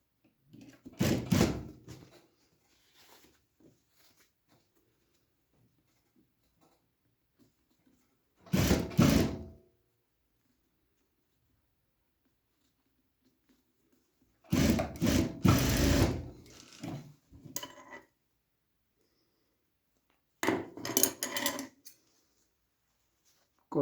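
A sewing machine stitches a seam on work overalls in short, loud rattling bursts, four of them spaced several seconds apart, with near silence between.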